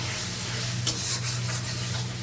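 Spices with chili powder frying in a pan, a dense continuous sizzle up close with a faint low hum underneath and one brief stirring scrape, no talk.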